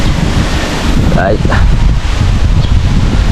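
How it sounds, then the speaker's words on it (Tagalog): Cold, gusty wind blowing outdoors in an overcast village setting, a constant loud rush buffeting the microphone throughout, with a brief spoken word over it. "So ayan, malamig na naman po dito sa amin sa Kalaka, ano? At mahangin."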